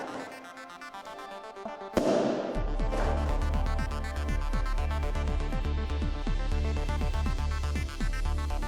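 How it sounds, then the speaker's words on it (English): A gunpowder firework charge set off electrically goes up in one sudden loud blast, followed by a long run of crackling, popping bursts that sit over a steady background roar. "Gunpowder is an old-fashioned and fairly inefficient explosive."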